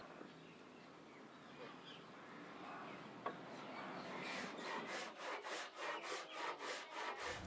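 Wooden planks for the sides of a beehive box are sawn, beginning with quiet shuffling and then settling into a run of fast, rhythmic rasping strokes, soft and close.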